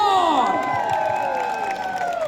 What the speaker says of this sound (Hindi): तो एक बार जो मायरा के लिए जोरदार तालियां.